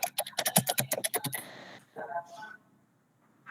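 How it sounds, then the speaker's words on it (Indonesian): Quick clattering keystrokes on a computer keyboard during an online school orientation session for a vocational high school, rattling fast and close for about a second and a half before trailing into fainter clicks and a brief muffled voice. "Masih ngetik"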